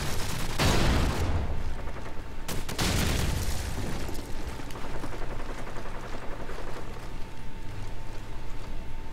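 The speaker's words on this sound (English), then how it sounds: "Give up some suppressive fire here." Call of Duty 4 suppressive fire: two heavy booming bursts of gunfire, then a steady rattle of distant shots and battle noise continuing underneath.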